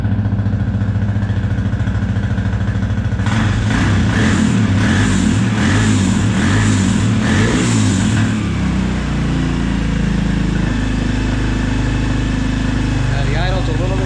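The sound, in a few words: Suzuki LTZ250 ATV engine idling after carburetor rebuild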